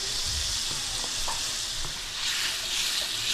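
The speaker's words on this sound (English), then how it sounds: "So here's our sausage, we're just cooking it up" Ground pork sausage sizzles steadily while frying in a cooking pot, with a few faint clinks and stirring scrapes over the constant crackle.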